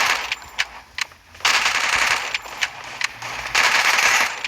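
Gunfire in the Free Fire video game, with bursts of rapid automatic shots separated by short pauses, loud and close, repeating several times with no talking.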